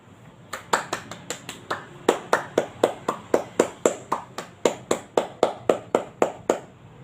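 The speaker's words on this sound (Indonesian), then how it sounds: "Sekali lagi beri tepuk tangan kepada beliau." A small audience claps in a regular, evenly spaced rhythm, about twenty sharp distinct claps close by, with no voices over them.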